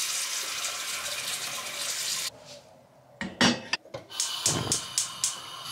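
A kitchen tap runs in a steady stream while dishes are being washed, then shuts off and gives way to clinks and clatter of dishes being handled.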